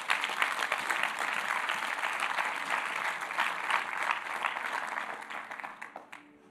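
A church congregation claps and applauds at a revival meeting, a dense, steady wash of many hands filling the room before it slowly thins out near the end.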